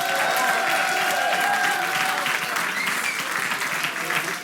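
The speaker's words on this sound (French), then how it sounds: "applaudir énormément." Audience clapping for stage technicians at a live theatre quiz show, a sustained full round of applause with a faint voice running through it, easing slightly near the end.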